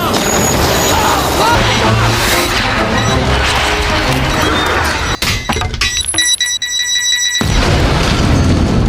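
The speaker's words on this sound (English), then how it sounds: "There's a bomb!" A bomb explosion from The Incredibles (2004) bursts loudly with a crashing, shattering roar and debris, followed by a sudden drop to near silence and a few ringing tones before sound returns.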